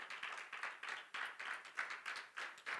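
A church congregation claps and applauds for several seconds, a dense, steady patter of many hands, moderately faint and without speech.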